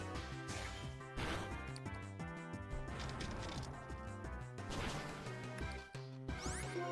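Repeated smash attacks in the Pokemon White video game, several sharp crashing hits landing over game music, punchy and close with brief gaps between impacts.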